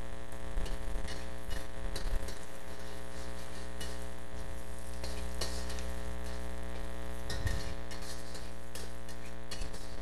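Onions sizzle in a pan with garlic, a steady broadband frying hiss with faint ticking and a low hum beneath, close and continuous with no talk.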